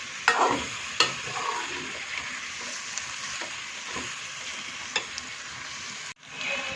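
Potato and tomato curry with egg sizzles and fries in oil in a pan, a steady close hiss broken by occasional soft stirring scrapes and clicks of a utensil.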